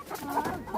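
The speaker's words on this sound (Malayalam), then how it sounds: "കോഴിയെല്ലാം പോകുന്നു." Chickens being fed give short, nearby clucks in a quick, uneven run that lasts under a second.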